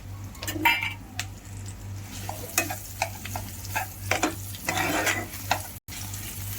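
Mashed raw banana is sautéed and stirred in a pan for Jain vada, a soft sizzle under repeated scraping and clinking of a spoon against the pan, close and fairly quiet, with a steady low hum behind.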